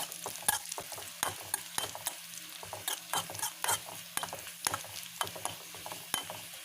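Halved dried red chillies sizzle in hot oil in a pan for a Kerala mango pulissery, with a steady fry hiss under repeated scraping and clinking strokes of a stirring spoon.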